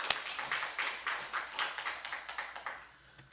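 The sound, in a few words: church congregation clapping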